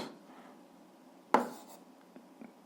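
Pen or pencil writing an algebra problem on paper: faint, steady scratching strokes with one sharper tap partway through, close and quiet, with no voices.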